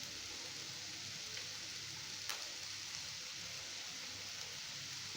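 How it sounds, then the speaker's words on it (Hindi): Onions frying lightly with capsicum in a pan give a steady, faint, even sizzle with a few soft pops, and no talk over it. "और इसको भी हल्का सा फ्राई कर लेंगे"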